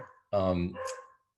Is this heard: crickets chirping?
no